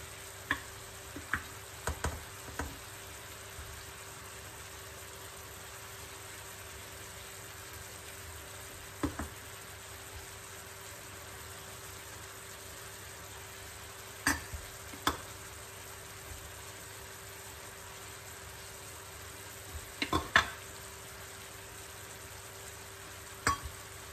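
Caramelized apples sizzle steadily in a frying pan for an apple cake cooked on the stovetop, a soft continuous hiss broken by occasional sharp clinks and scrapes of stirring.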